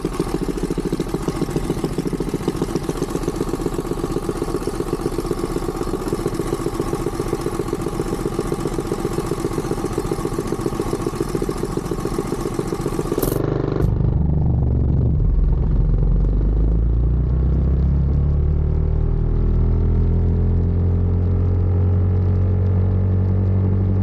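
A mini bike fitted with a torque converter runs at a drag race, its small engine droning loud and steady at high revs. The note cuts off abruptly partway through, leaving a lower rumble and idling.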